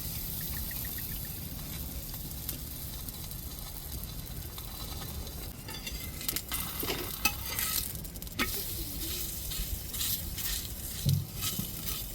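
Hand-patted sweet dough balls fry in a little oil on a dosa griddle, with a steady sizzle under occasional scraping and tapping of a turner that grows busier later.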